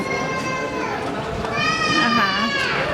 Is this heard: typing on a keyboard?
no